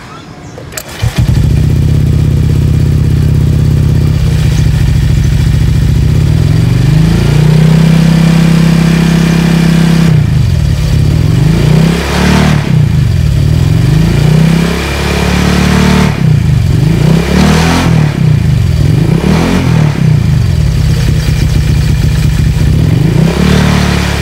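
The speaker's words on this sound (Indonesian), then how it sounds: "Langsung aja kita dengerin untuk suara dari knalpot gripnya coy." Honda Vario scooter fitted with a Grip Racing K59 copy CMS exhaust, idling with a steady low rumble and then blipped through several loud, rising revs in quick bursts, close and alone without talk.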